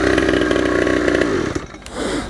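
A two-stroke engine running on better two-stroke oil buzzes close by with a steady, raspy drone for about a second and a half, then cuts off abruptly, with no talking.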